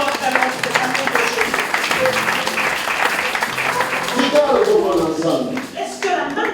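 A church congregation applauds loudly during a French-language healing and deliverance service, steady dense clapping with scattered voices and cheers mixed in throughout.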